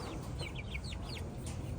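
Roosters in a backyard flock giving a rapid series of short clucking calls, near and distinct over a low rumbling background.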